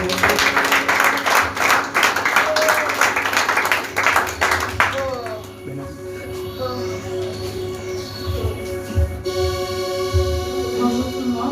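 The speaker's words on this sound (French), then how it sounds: "Aidez-moi à encourager et à appeler ici la sœur Olga pour les acclamations, s'il vous plaît." A church congregation claps and applauds for several seconds, dense clapping that fades around midway, then gives way to voices and sustained tones in the room.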